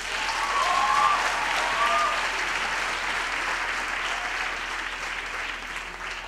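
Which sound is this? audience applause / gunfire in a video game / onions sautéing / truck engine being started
audience applause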